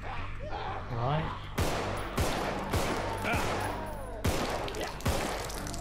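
Gunshots fire in the zombie survival game Contagion: about six sharp, loud blasts at irregular intervals, with a voice speaking over the start.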